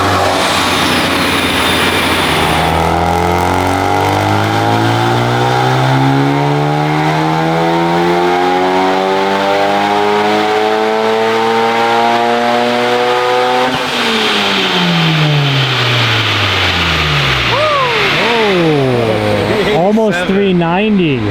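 Honda Civic Type R engine revving hard on a dyno, its rising harmonics climbing steadily through a long loud pull, then dropping and wavering as the throttle lifts near the end; people talk over it.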